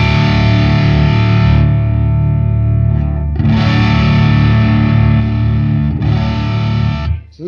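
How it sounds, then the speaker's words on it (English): Electric guitar through the Fuzz Imp Amity prototype dual overdrive pedal, set at noon for a traditional tube-screamer-style drive, strumming loud, thick distorted chords that ring out in three long phrases with brief dips between them. "this gets a pretty traditional kind of tube screamery thing"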